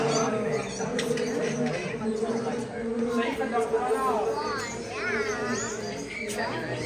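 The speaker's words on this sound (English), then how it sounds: "Can you hear the birds?" Birds chirp and warble in an indoor rainforest exhibit inside a glass pyramid, their bright trills rising over constant ambient hum while people talk nearby.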